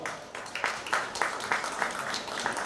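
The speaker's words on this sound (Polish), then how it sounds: "Szanowni Państwo, poprosimy o wielkie brawa!" Applause from a crowd welcoming a newly signed Cracovia football player, a steady broadband patter of clapping with a few sharper bursts, sustained and moderately loud with no voices on top.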